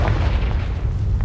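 A Confringo spell explosion in the video game Hogwarts Legacy, heard as a loud, deep, close boom with a rumbling burst that fills the brief moment.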